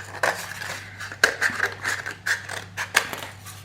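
Scissors cut a cardboard toilet roll in half: a series of crisp, close snips and crunches at uneven intervals, with no talking.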